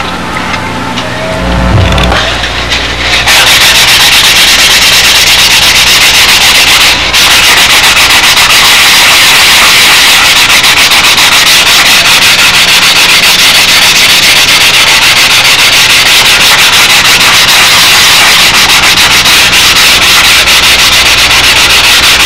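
Steady, continuous sanding of the wooden sheeting on a Windy Sidewinder model aircraft, a loud close-up rasping hiss that keeps going for over twenty seconds after a short stretch of handling noise at the start.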